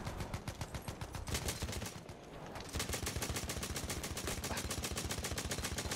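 Rapid automatic gunfire in a video game, a steady stream of evenly spaced shots with a short lull partway through before the burst resumes, loud and close.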